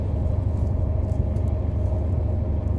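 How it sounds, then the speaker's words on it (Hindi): A steady, loud low rumble from inside a moving passenger train as it overtakes a holiday special train, continuous and even throughout with no voices. "किसी होली स्पेशल को हम लोग अभी यहाँ पे ओवरटेक कर रहे हैं"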